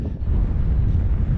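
Strong coastal wind buffets the microphone in a low, rumbling roar, loud and continuous across a short stretch with no speech.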